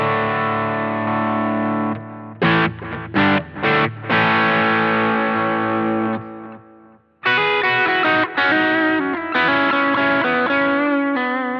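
Tradition T20Q Stratocaster played through a Boss GT-100 multi-effects unit with the compressor off, giving a distorted electric guitar tone of sustained chords, short choppy stabs, a brief near-silence, then more ringing strummed chords.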